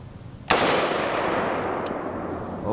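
A gunshot fired at plastic body armor cracks out as a single sharp, loud blast. A long, echoing boom follows and slowly fades, heard close in an open setting.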